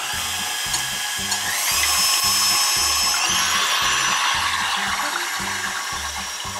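An electric hand mixer whips egg whites with lemon juice in a bowl, a steady loud whirring with rhythmic clattering of the beaters against the bowl, continuing alone without talk.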